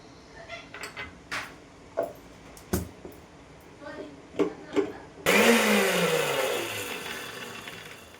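Mixer grinder grinding green chillies to a medium-coarse paste, starting abruptly with a loud whirring roar after a few scattered kitchen clatters, then running steadily while its pitch sags.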